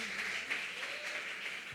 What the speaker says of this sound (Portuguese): Aplaude ao Senhor pela vida da pastora Gina.